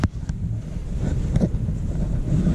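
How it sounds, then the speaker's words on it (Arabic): Strong wind gusts through a snowstorm on Iceland's Golden Circle, a steady close roar buffeting the microphone with low rumbling throughout and no talk. "كما كتشوفوا الريح بزاف والثلج بزاف."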